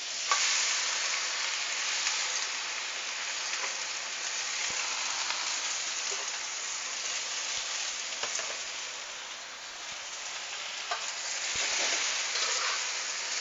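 Chinese broccoli stir-fries over very high heat in a wok, giving a dense, continuous sizzle with occasional light clicks of tossing or stirring and no voices.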